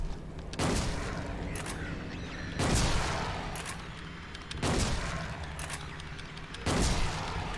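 Four heavy gunshots from Silent Hill 2 ring out about two seconds apart, each a loud blast with a long fading tail, close and alone without speech.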